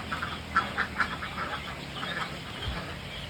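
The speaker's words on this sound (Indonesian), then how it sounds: "saya akan memberi makan bebek ini lebih awal dari biasanya" Ducks quacking on a duck farm, several raspy quacks close by in a quick cluster early on, then softer scattered quacking and shuffling at a moderate level.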